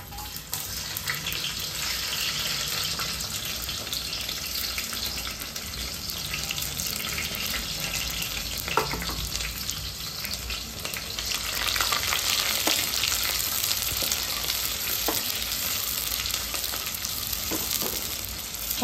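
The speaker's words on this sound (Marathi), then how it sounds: "कांदा परतवते जरा लालसर होईपर्यंत" Chopped onion sizzles steadily in a hot pan for masala rice, a dense continuous frying hiss with occasional soft scrapes and taps as it is stirred, no talking.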